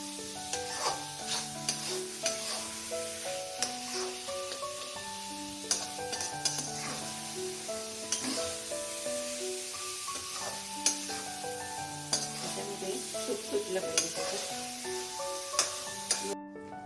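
A fresh coconut barfi mixture is stirred in a pan with ghee, making soft scraping and gentle sizzling as a spoon works through it, while music plays steadily throughout.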